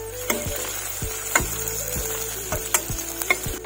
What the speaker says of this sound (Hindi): अब मैं इसमें डालूंगी पाँचफोरन, थोड़ा सा पाँचफोरन